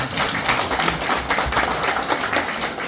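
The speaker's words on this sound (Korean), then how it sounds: "박수 한번 부탁드리겠습니다." Audience at a meeting of self-employed business owners claps steadily for about three seconds, a dense continuous patter of many hands with no talk over it.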